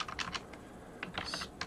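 Quick bursts of keystrokes on a computer keyboard as a wget command is typed at a Linux server prompt, clattering in two short clusters with a pause between, close and fairly quiet.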